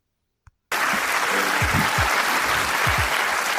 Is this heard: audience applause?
yes